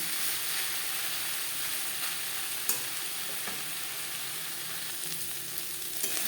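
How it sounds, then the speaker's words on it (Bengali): Chopped banana flower fries with coconut over high-to-medium flame, a steady soft sizzle throughout with occasional light clicks from stirring against the pan. "নারকেলের সাথে চার পাঁচ মিনিট মোটামুটি ভালো করে নাড়াচাড়া করে নেব"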